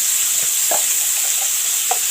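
Veal searing in a pan with a little salt and pepper, a steady close sizzle under a few soft clinks and stirring scrapes, with no voices.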